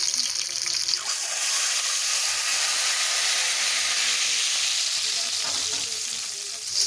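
Chopped garlic and green chilies fry in hot ghee for a tadka over dal palak, giving a loud, steady hiss and crackle throughout with no talk.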